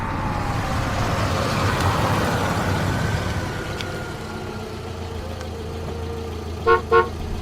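Traffic rumbles in the rain and a car slows and settles to idle beside a roadside corn cart, then its horn gives two short honks near the end.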